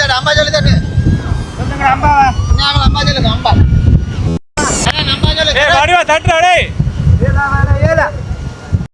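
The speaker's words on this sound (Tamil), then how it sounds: "கடல் வந்து கொந்தளிப்பாக இருக்குது. அதில் மாதிரி காற்றும் கூட இருக்குது." Strong wind blows across a rough sea shore at Kudathanai near Jaffna, buffeting the microphone as a steady low rumble beneath continuous close talking by several people.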